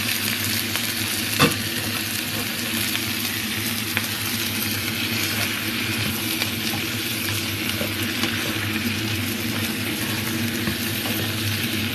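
Shrimp frying with garlic and chili in a pan, a steady close sizzle with scraping stirring strokes and one sharp clink near the start, no talk.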